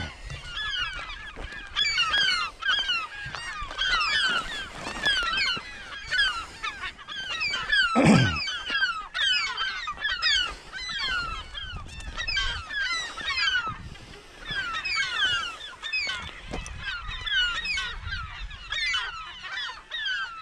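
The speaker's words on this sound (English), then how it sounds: "They are just everywhere. Crazy birds." A large colony of birds on a remote Lake Michigan island, many honking, goose-like calls overlapping continuously at moderate volume, with a brief low thump partway through.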